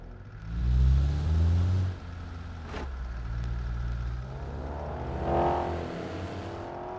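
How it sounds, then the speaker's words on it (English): A truck's engine in BeamNG runs with a steady low rumble, swelling louder early on and briefly dipping before a short knock, then idling on with a rising note near the end. "the blinker's on, the engine's running"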